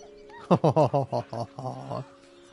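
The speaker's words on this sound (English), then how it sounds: "The dog whimpers nervously, as if to urge you on." A dog in Baldur's Gate 3 whimpers nervously, a close run of about eight short whiny yelps that fade toward a softer trailing whine, heard alone.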